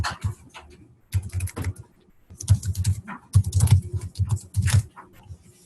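Typing a value on a computer keyboard: close, crisp keystrokes in several quick bursts separated by short pauses, with no other sound around them.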